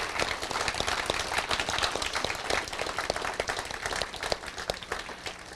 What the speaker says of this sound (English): all of our support staff deserves a round of applause